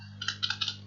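A computer keyboard is typed on in a short burst of a few light, quick key clicks over a low steady hum.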